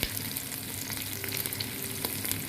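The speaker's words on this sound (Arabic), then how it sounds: "هني حطيت بالجدر بصل وزيت" Onions frying in oil in a cooking pot, a steady dense sizzle with occasional crackles and faint stirring scrapes, close and continuous with no voices.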